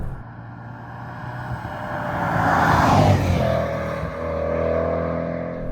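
A 2022 Jaguar F-Pace SVR engine swells loudly to a peak, then falls away through quick gearbox downshifts before building again, heard close and continuous with no talking.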